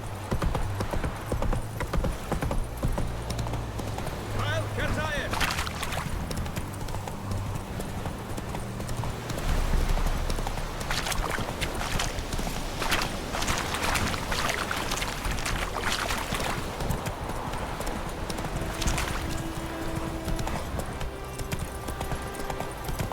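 Hooves of the horse Roach in The Witcher 3 clip-clop in a fast, continuous gallop, loud and close, over rushing game ambience with an occasional snort.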